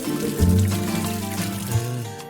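Water is poured over a person in a Tamil TV drama scene: a short splashing pour under loud background music, with no talking.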